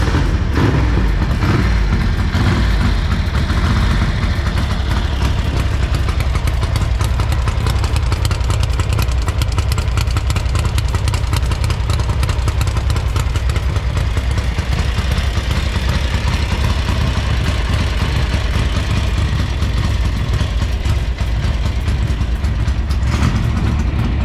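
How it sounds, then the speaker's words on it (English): A 1980 Ducati Darmah motorcycle engine idles with its carburettors in need of setting up, a loud, close, continuous low-rev rumble that chugs slightly unevenly, with no voices. "It's just chugging a bit at low revs."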